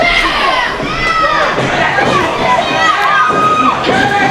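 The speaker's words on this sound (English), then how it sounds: "As you can hear the crowd buzzing in the DCCW arena right now" A large indoor wrestling arena crowd roars and buzzes continuously, with scattered shouts and cheers rising over the steady din.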